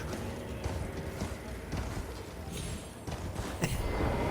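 A horse's hooves clip-clop in the video game Elden Ring, a run of uneven hoof strikes at moderate distance with faint creaks.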